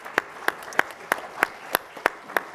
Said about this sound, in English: We can applaud that